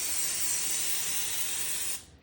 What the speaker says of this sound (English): Danny's gonna come in with some Pam and we're gonna spray this so it doesn't stick to the plastic wrap